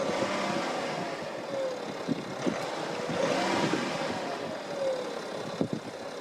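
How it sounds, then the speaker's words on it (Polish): Warmed-up six-cylinder diesel engine in a BMW E91 330xd, a steady low rumble and clatter under wind noise, with a few soft knocks and whooshes over the run. "słychać klekot, bo jest to silnik wysokoprężny, ale jest to 6 cylindrów"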